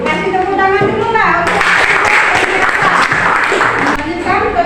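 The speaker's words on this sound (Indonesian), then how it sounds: "Kasih tepuk tangan dulu lah." In a classroom, students burst into quick, close clapping for about two and a half seconds, bracketed by a teacher speaking before and after.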